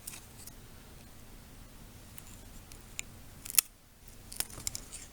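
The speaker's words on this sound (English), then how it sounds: "Now we could just snip these extra pieces off" A few quick, crisp snips of shears trimming extra pieces off an herbal solar cross charm, faint and close, with sparse clicks in a quiet room.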